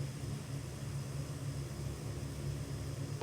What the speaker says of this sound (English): Hopefully you can hear those sounds. It is a fun sounding airplane.